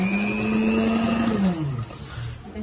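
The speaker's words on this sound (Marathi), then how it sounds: "मग आता आपल्याला शिलाई मारून घ्यायची" A sewing machine stitches a tucked blouse, running with a steady loud motor whine that sags in pitch near the end as it slows, with no talk over it.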